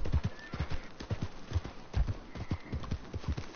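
Steady clip-clop of horse hooves at a walking pace in the video game Red Dead Redemption 2, close and fairly loud, with a brief whinny-like tone in the background.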